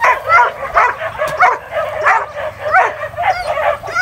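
A dog barks and yips in quick, repeated bursts close by, with some whimpering mixed in over a faint low background rumble.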